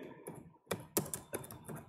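Computer keyboard typing, a quick string of soft, close clicks and taps with uneven rhythm, faint overall with no voices.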